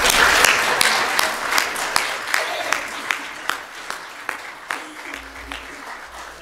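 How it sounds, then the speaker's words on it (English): Audience applause at a morning church gathering, a roomful of hands clapping loudly at first and then thinning into scattered claps that taper off, with some voices mixed in. "they deserve a hand clap this morning"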